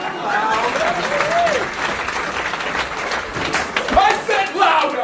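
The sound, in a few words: louder crowd applause and cheering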